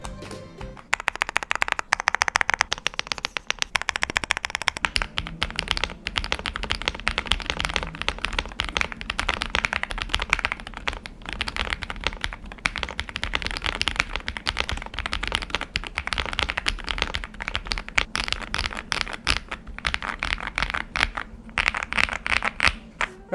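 Typing on a Maicong X75 75% mechanical keyboard with hyacinth switches, giving a steady, dense run of close, crisp keystroke clacks throughout, with no talking over it.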